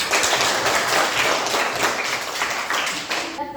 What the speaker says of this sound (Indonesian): Tepuk tangan untuk kelompok yang bertanya.